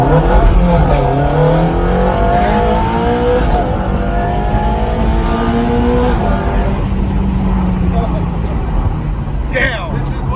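A Nissan GT-R with a Capristo Valvetronic exhaust pulls hard in first gear, its engine note rising steadily and loud from inside the cabin, with people talking over it.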